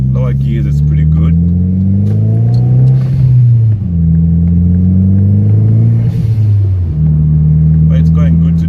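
Audi S3 8L pulling hard in third gear, its engine droning loud and close with rising pitch, dipping briefly at about 3.5 and 7 seconds as revs settle before climbing again, a steady cabin rumble throughout.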